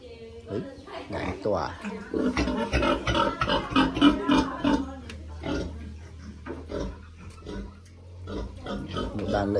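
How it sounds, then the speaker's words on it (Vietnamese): Pigs and piglets on a Vietnamese farm during Tet oink and squeal in a busy, close cluster of grunts, while people talk over them and a low hum runs underneath. "Một đàn lợn con đẹp chưa?"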